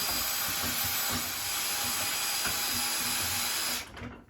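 A battery-powered stem valve exercising tool on its highest speed, lowest torque setting whirs continuously while turning a valve stem, a steady high-pitched motor drone with faint rhythmic knocks, cutting off abruptly near the end.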